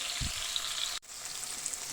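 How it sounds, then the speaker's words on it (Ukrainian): Bell pepper frying in a pan, a steady close hiss of sizzling oil that cuts out for a moment and resumes, with no talk. "хай обсмажується перець"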